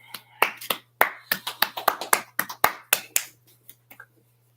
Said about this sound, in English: Make sure we clap it up for Maui here